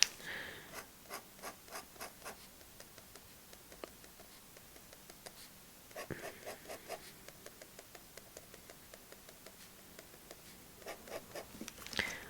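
A Uni Posca white paint marker swatches across paper in quick, regular strokes, soft scratchy rubbing close by, repeating rhythmically with a brief pause midway.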